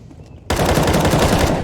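Sustained rifle spray in a tactical shooter game match, a sudden loud burst of rapid automatic gunfire that starts after a brief quiet moment and rattles on continuously to the end.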